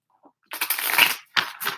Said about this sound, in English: Clear the deck with a few shuffles here.